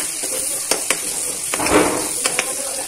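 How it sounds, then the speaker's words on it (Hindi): Green chilies and onions sauté in hot oil with garlic for dal tadka, giving a steady soft sizzle with occasional light clinks and stirring of a spoon against the pan. "अब मैं ये ग्रीन चिलीज और ये ऑनियंस मैं डालूंगी, इसको सॉटे करेंगे."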